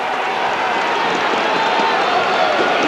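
Football crowd at an SANFL semi final between Sturt and the Eagles, a steady dense roar of shouting and cheers filling the whole stretch with no break.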